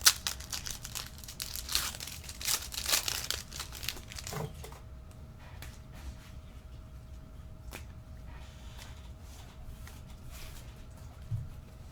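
Plastic wrap on a Panini Prizm football trading card box crinkles and tears loudly up close for a few seconds, then faint rustling and handling continue under a quiet background.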